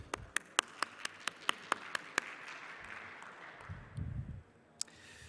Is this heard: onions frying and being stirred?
no